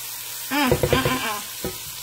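Chicken for smothered chicken hits a hot pan with a sudden loud sizzle, followed by a few quick stirring knocks and a softer steady fry.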